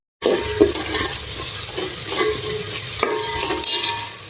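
Hot oil tempering crackles and sizzles steadily in a pan for masala Maggi noodles, with scraping stirs now and then over a loud, continuous fry and no talking.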